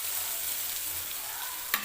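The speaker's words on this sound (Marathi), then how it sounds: "छान असा कांदा आपल्याला सुरुवातीला भाजून घ्यायचा आहे" Onion fries in a pan with a continuous close sizzle, ahead of a matar paneer. A brief stirring knock comes just before the end of the short stretch.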